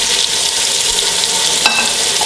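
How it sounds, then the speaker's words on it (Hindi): Ginger garlic paste and chopped tomatoes sizzle steadily in hot ghee for aloo gobi, a close continuous fry with one brief utensil scrape partway through. "इन सारी चीज़ों को घी में अच्छी तरह फ्राई करेंगे।"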